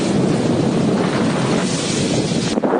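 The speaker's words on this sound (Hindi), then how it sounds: "तेज हवाएं चल रही हैं, आप लोग देख सकते हैं कि यहाँ पर जो पेड़ हैं हवा से किस तरह से लहरा रहे हैं।" Strong cyclone winds from Cyclone Nisarga roar steadily and loudly across the whole stretch as broadband rushing with microphone buffeting, easing slightly near the end; nobody speaks.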